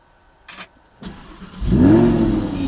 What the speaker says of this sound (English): So we're gonna fire this thing up.